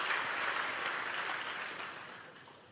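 A church congregation applauds together in a steady, dense wash of clapping that fades gradually toward the end.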